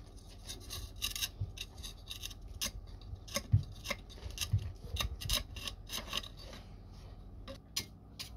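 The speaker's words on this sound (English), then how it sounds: "I might just carve it a little bit more with my knife and scrape away all that burnt charcoal" A knife carving and scraping burnt charcoal off a primitive axe handle made with grass tree pitch, giving repeated short rasping scrapes in irregular bursts, close and fairly quiet with no talking.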